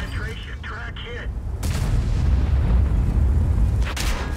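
Tank cannon fire in the video game World of Tanks, a heavy booming shot erupting partway through and rumbling over low battle noise, with a voice talking beforehand.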